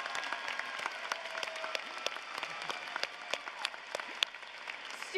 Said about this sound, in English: let's give these kiddos a huge round of applause